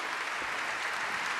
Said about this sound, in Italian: Accogliamola con un caloroso applauso, Stefania Bruno!